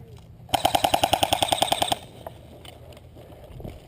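Airsoft gun fired in a rapid automatic burst during an outdoor team deathmatch game in Arizona, a dozen evenly spaced sharp cracks lasting about a second and a half, loud and close, then quieter background.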